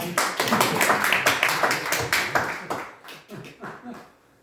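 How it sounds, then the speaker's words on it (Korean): A small group at a Korean alumni Christian fellowship worship gathering claps in quick rhythmic bursts, close and fairly loud, thinning out to scattered claps before stopping, with a voice talking underneath. "박수 한번 좀"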